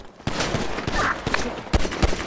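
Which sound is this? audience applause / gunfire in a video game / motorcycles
gunfire in a video game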